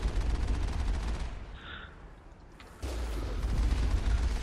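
Enemy gunfire in Mass Effect 1, heavy low booming shots and rumbling fire under a steady game soundscape, briefly dropping away mid-clip before a loud burst resumes.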